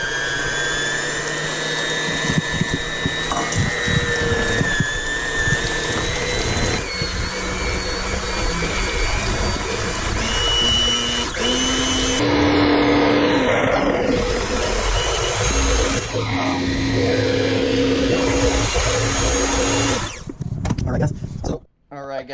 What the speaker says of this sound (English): We're going to go ahead and add in the milk and then go back to mixing slowly.